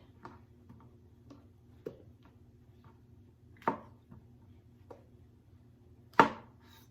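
Knife chopping fresh vegetables for a vegan lentil picadillo, a few scattered sharp chops, some fairly loud, over a steady low hum in a kitchen.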